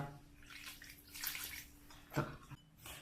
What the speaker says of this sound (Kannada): ಇದನ್ನು ನೀರು ಹಾಕ್ಕೊಂಡು ಕಲಸ್ಕೊಳ್ಳೋಣ ಈಗ